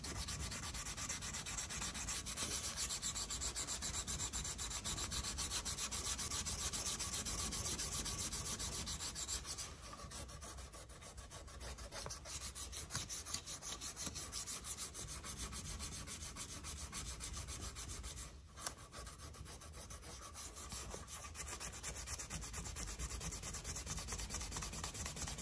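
Steady hand sanding of a knife handle with 320 grit sandpaper, a continuous close scratchy rubbing that runs throughout with brief pauses in stroke rhythm and no talking.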